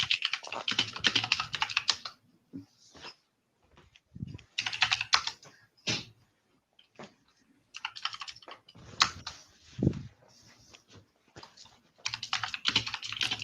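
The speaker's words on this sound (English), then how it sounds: "he is rapid typing" Rapid typing on a computer keyboard comes in fast, dense bursts of clicking keystrokes, broken by short pauses and a few isolated key taps, close and fairly loud with almost no talk.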